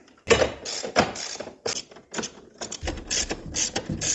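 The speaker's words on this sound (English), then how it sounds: "we're going to remove all of these 10mm bolts all the way around this cover" A tool removes the 10mm bolts around an engine cover on a BMW 340i, giving close, quiet bursts of ratcheting clicks and mechanical rattling that start and stop several times with short pauses between them.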